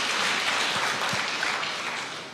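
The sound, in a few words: applause from church congregation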